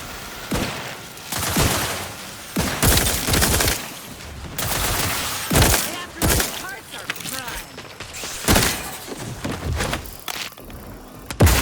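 Gunfire in the video game The Outer Worlds 2, repeated loud bursts of shots and heavy thuds in irregular clusters, with voices speaking between and under the firing.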